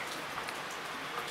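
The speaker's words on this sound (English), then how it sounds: "It's raining." Steady rain from Hurricane Dorian patters on a surface, a dense, even hiss of drops with no voices.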